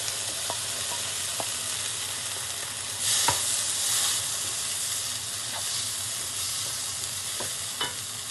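Tomatoes sizzle and fry in hot spiced oil in a pan, a steady hiss with soft scraping stirs and small pops and clicks, close and alone without talk.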